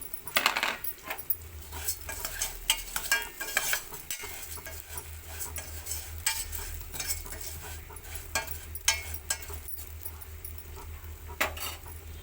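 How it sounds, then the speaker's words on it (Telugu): Vermicelli frying in ghee in a pan: a spoon scrapes and clinks repeatedly against the pan while the strands are stirred, over a soft continuous sizzle and a low steady hum, with no talking. "ఇప్పుడు అదే నెయ్యిలోని సేమియా వేసుకొని ఫ్రై చేసుకుందామండి"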